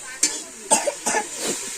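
A woman coughs several times in short, close, sharp bursts at home while cleaning vegetables with her mother, with brief pauses between each cough.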